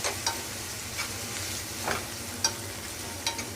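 Salt, green chillies, garam masala and cumin powder frying together in a pan for chicken rolls, a steady close sizzle punctuated by several distinct stirring scrapes at irregular intervals, no voices.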